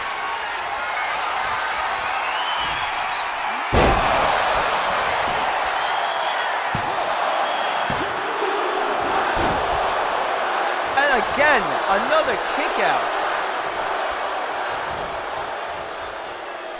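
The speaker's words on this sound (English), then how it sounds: "The crowd going absolutely nuts for these two superstars." Wrestling arena crowd roars steadily throughout a match featuring Penta and Grande Americano, a dense wash of cheering beneath the commentator's voice, with a heavy slam near four seconds and scattered claps and whoops later on.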